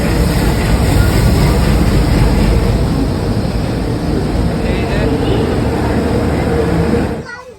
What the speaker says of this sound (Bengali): এই আমাদের ট্রেন ঢুকে গেল হাওড়া অমৃতসর মেল